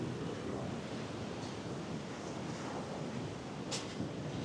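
Surf on a wide, empty beach makes a continuous broadband wash of breaking waves mixed with wind buffeting the microphone, steady throughout with no voices.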